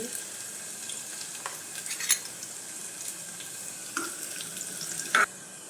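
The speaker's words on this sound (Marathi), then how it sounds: "तेल गरम झालंय मोहरी टाकते मोहरी झाली आहे लसूण टाकते जिरे घालते" Mustard seeds, garlic and cumin sizzling in hot oil in a pressure cooker, a steady close hiss with a few small crackles and light stirring clinks.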